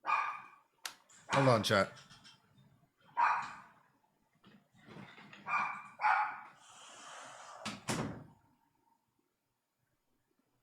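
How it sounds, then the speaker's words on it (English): Several dogs barking excitedly at a mail carrier indoors, loud bursts in short volleys mixed with a person talking between them. "The dogs go crazy with the mailman."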